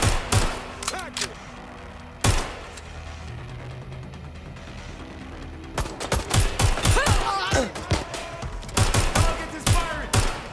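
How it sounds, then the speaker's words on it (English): Gunfire in the open-world game Watch Dogs: Legion, with scattered loud shots early and then dense bursts of close automatic fire, with voices heard between them. "Target is firing."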